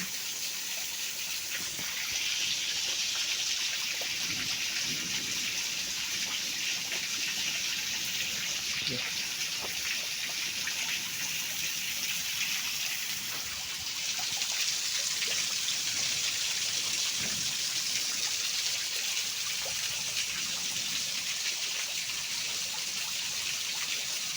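Light rain falling outside a cave, a steady wash of hiss and patter close by, with no voices, continuous throughout and swelling slightly partway through.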